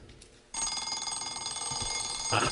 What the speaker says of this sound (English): it's the sound of the alarm clock